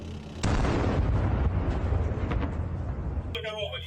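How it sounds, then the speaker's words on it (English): A tank hits a mine on a battlefield in Ukraine and explodes, giving a sudden loud close blast that settles into a long, rumbling roar. A voice comes in briefly near the end. "the tank that should have survived and escaped ended up hitting a mine and exploding."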